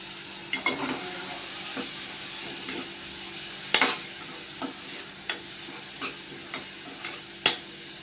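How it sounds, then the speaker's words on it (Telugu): Chopped tomatoes sizzle in a pan of cluster bean curry with garlic and chilli, under a steady hiss broken by regular spoon clacks and scrapes as the mixture is stirred up close. No speech. "చక్కగా ఇప్పుడు టమాటా వేసేద్దామండి ఇవో టమాటా వేసేసినాను"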